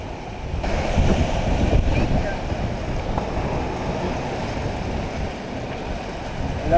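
Strong wind and breaking waves at sea during an Atlantic crossing squall, heard aboard the sailboat Taravana making 8 knots in 25 knots of wind; a steady roaring rush with wind buffeting the microphone, continuous and fairly loud throughout.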